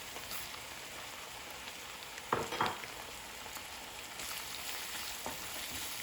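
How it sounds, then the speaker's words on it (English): Ginger, garlic and sesame seeds fry in oil in a pan, giving a steady, rain-like sizzle throughout with a brief louder crackle and stir near the middle, no voices. "Now the ginger and garlic have been fried in the oil. Now we'll add sesame seeds."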